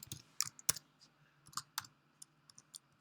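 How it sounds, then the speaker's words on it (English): A computer keyboard clacks as a heading is typed, with irregular close keystrokes scattered in short bursts and pauses, a few louder clicks standing out against a quiet room. "we're going to type, let's see, something creative again"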